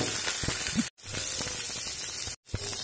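Chana dal and cumin sautéing in a hot pan give a dense, continuous hissing sizzle, loud and close, broken by two brief dropouts.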